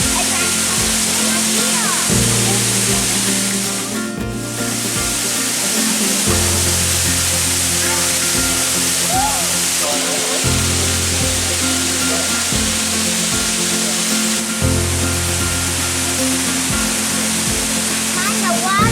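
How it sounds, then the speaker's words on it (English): The middle fall of a waterfall on Tai Mo Shan, Hong Kong, roars in a constant, broad rush, with people talking and music-like tones layered over it. "Made it to the Waterfall."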